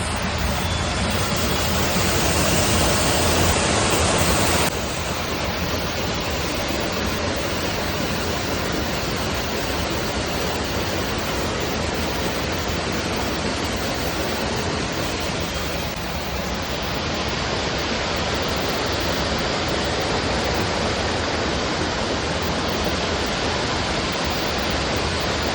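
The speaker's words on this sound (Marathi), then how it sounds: "त्या गटारामधून जे पाणी वाहतंय तुम्ही पाहू शकता, त्याचा आवाज जोरात येतोय." Wastewater rushing loudly through an open roadside gutter in Vasai-Virar produces a steady, dense roar of flowing water that runs unbroken and close for the whole stretch, with no voices over it.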